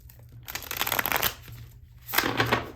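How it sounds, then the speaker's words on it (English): A deck of tarot cards is riffle-shuffled in two bursts of crisp, close fluttering clicks separated by a short pause, with no talking. "Yeah, that was a very good shuffle."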